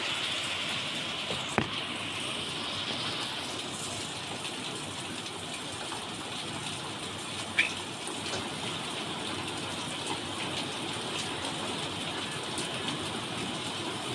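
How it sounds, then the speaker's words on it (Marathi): Steady rain pours down continuously, a dense, even wash of noise with a couple of faint clicks and no voices. "सारखा पाऊस चालू आहे"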